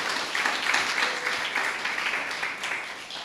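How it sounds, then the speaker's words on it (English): A lecture-hall audience at a cultural studies event applauds steadily, dense clapping sustained throughout without a break, moderately loud and fairly close, with no talk over it. "That deserves an applause,"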